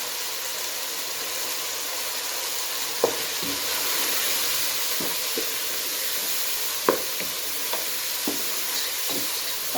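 Chicken pieces and capsicum sizzle steadily in a pan with a constant hiss of frying oil, broken by occasional sharp taps and scrapes of a spoon stirring.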